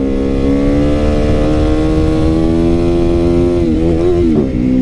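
A motorcycle engine revs loudly and steadily while the rider pulls wheelies, its pitch holding then wavering and dipping near the end, with no talking over it.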